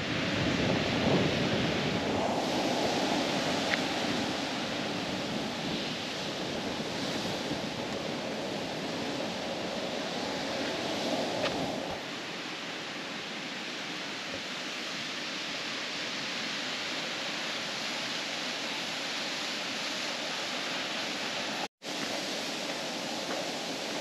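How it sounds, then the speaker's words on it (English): Heavy wind roars without a break on the Hana Highway in Maui. The broadband rush is stronger and gustier in the first half, then eases to a steadier, slightly quieter blow. "Wow, this wind is heavy."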